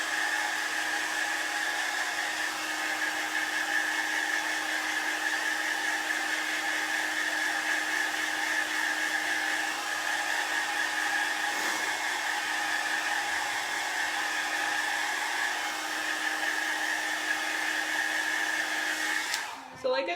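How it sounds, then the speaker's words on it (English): A hair dryer blows steadily on chalk paste used in a home decor craft project, giving a constant, even whine from start to finish before it cuts off at the very end. "let's do a little blow dry."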